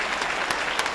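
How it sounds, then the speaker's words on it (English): A brief burst of audience applause at a museum ribbon-cutting ceremony in Rochester, New York, a dense, steady clatter of many hands at moderate volume, heard alone. "Let's give them both a round of applause."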